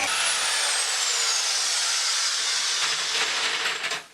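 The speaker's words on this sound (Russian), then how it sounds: "смело производите сверловку" A power drill boring holes in a wardrobe panel during sliding-wardrobe assembly, one continuous close whirring buzz that runs steadily and cuts off abruptly at the end.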